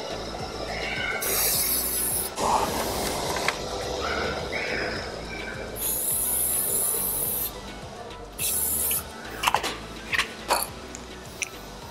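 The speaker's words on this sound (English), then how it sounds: "Just start spraying." An aerosol spray paint can hisses in several bursts of varying length while paint goes onto the engraved brand name on a motorcycle engine casing, with quieter gaps between the sprays and no talk.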